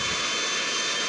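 A passenger jet in GTA V comes in to land, its engine a steady, loud, close roar and whine that fills the whole stretch without a break.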